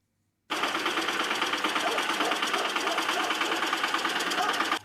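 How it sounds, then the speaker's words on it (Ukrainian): A tractor engine runs at a steady mechanical chatter with a fast rhythmic knock, close and even, cutting in abruptly after a short silence and continuing to the end. "Марія Адамова за кермом трактора їде годувати коней."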